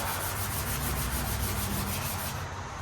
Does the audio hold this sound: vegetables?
no